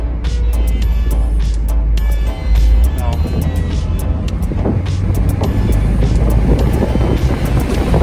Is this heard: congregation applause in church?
no